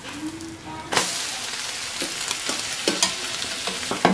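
An egg omelette for bread omelette sizzles in a pan, a sudden sharper hiss as it is flipped, followed by steady close frying punctuated by light spatula taps.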